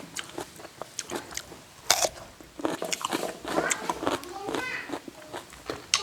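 Crunchy cucumber bitten and chewed with fermented fish chili dip (nam phrik pla ra), close crisp crunches and wet chewing in irregular bursts, with voices talking around it.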